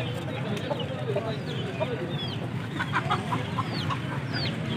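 Aseel roosters scuffle at a busy outdoor Sunday bird market in Sialkot, giving scattered clucks and short squawks over constant crowd chatter and a steady background din.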